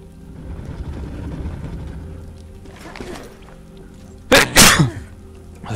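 A person sneezes twice in quick succession, close to the microphone, over a quiet background of video game ambience and faint murmuring.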